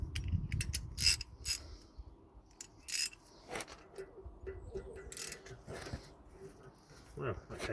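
A hand ratchet loosens a rear brake disc bolt on a 2007 Audi Q7, giving quiet rapid clicking bursts and creaks interspersed with clanks and handling noises near the mic.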